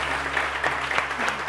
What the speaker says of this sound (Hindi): सबसे पहले बहुत सारी तालियां फराह के लिए।